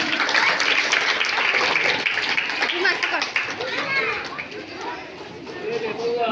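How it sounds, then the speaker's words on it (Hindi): Applause and crowd noise at a school Independence Day celebration, a loud burst of clapping mixed with children's chatter that gradually thins out, with voices speaking over it. "अजीत कुमार के लिए जोरदार ताली।"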